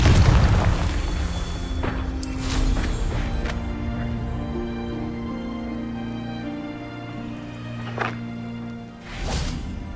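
Confringo fire-blast spells cast in the Hogwarts Legacy video game, a few booming impacts with whooshing bursts spread over several seconds over a low sustained ambient tone, loud at the start and again near the end.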